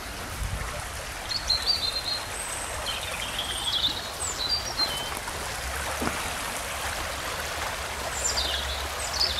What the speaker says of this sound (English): Bit of a stream here